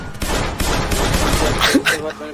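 Rapid bursts of gunfire in GTA 5, a dense rattling stream of shots under loud overlapping talk, ending in a few sharper distinct cracks.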